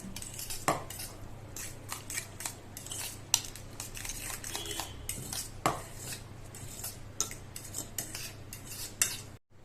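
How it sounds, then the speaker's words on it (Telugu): Eggs beaten with chopped coriander in a bowl for a cheesy bread omelette, a utensil clinking and scraping against the bowl in quick, steady strokes, close and continuous with no talk. "ఈ ఎగ్స్ కొట్టి దీనిలో కొత్తిమీర కూడా వేసుకొని మిక్స్ చేసుకోవాలి."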